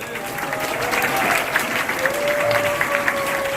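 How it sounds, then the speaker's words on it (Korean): A hall of high school students applauds at the end of a special lecture on cyberbullying prevention, steady close clapping throughout with faint murmurs under it. "박수 한 번 더 칠까요?"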